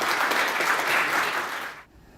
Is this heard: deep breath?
no